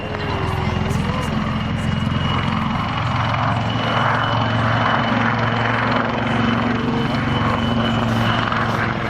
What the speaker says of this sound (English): Pausing the aircraft, trading off speed, putting the aircraft into a hover.